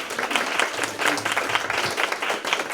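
Applause from the audience at a children's educational symphony concert, lively uneven clapping from many hands with a few voices calling out over it.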